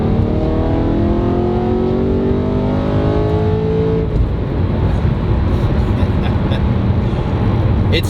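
BMW E92 M3 engine inside the car, droning steadily and then rising sharply in pitch on a blipped downshift, loud and continuous from the cabin.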